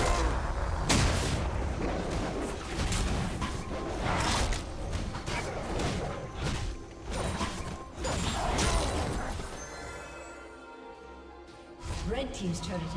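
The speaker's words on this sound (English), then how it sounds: "Red Team's turret has been destroyed." Turret destruction in League of Legends, part of a Trundle versus Lee Sin match: a series of heavy, crashing explosive impacts and mechanical bursts dense through most of the stretch, with a quieter tail near the end.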